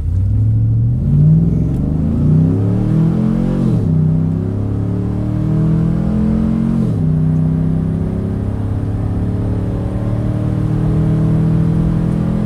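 A 2008 GMC Denali with a 6.2L V8, long tube headers, a custom tune, a Volant intake and a 4-inch stainless Magnaflow exhaust idles with a deep rumble, then revs hard twice, loud and close.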